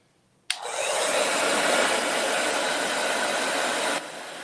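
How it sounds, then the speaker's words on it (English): A hair dryer switches on abruptly and blows with a steady, loud whooshing roar for several seconds before dropping in level. "Let me just hit it with a blow dryer real quick."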